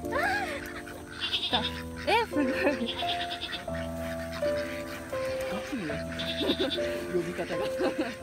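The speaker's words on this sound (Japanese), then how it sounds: "あ、ヤギもいるんだ。" A goat bleats in a few wavering cries at an animal enclosure that also holds ducks, mixed with nearby people talking.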